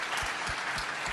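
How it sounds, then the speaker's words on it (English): Audience applause at a live event celebrating an all-female Blue Origin spaceflight crew, a steady wash of many hands clapping with no voices over it. "Yes, please clap to that."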